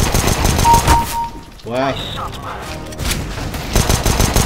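Video game shooter gunfire bursts out in loud clustered shots and booms, mixed with excited shouting and talk throughout.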